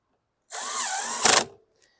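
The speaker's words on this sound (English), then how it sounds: "but to speed things along, I've got my DeWalt 18-volt impact out here" A DeWalt 18-volt cordless impact driver works on sheet metal screws of a 2014 Murray lawn mower, a single close whir of about a second ending in a quick burst of rattling impact hammering.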